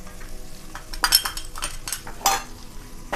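Two large chopped onions stirred in a hot pan with a spoon, scraping and clinking against the pan over a soft frying hiss, close up.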